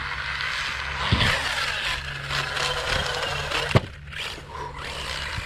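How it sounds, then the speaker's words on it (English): A Tekno ET48 2.0 RC car with a faulty drivetrain runs with a buzzing, whining motor tone, a couple of sharp knocks breaking through, and then a brief dip before the whir resumes. "now something else is making a weird noise"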